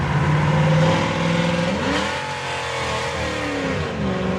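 A 1968 Chevrolet Camaro's engine revs strongly as the car drives, pitch climbing in first gear, then dropping with a shift into second at about 3,500 RPM and rising again, loud and close with no talking.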